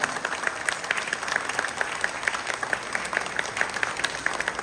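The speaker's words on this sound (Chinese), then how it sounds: "我们再用掌声给谢国梁，加油一下好不好？" Audience applause at a Kuomintang thank-you tea gathering, sustained dense clapping from a sizable crowd that stays steady and fairly loud throughout without a break.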